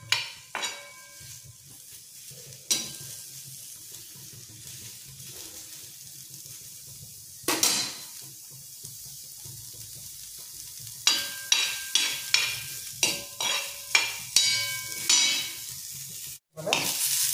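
Chopped onion sautéed on a hot tava for a prawn chutney, with a steady low sizzle broken by repeated scraping stirs that grow more frequent toward the end, close up with no talk.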